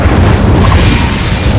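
A fire spell blast in the Hogwarts Legacy video game, heard as a short, loud, low booming roar that fills the whole moment.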